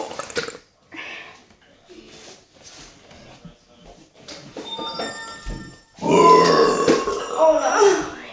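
A person burps out a familiar country-rap song tune, a series of short croaky burps building to a long, loud, strained belch at the end.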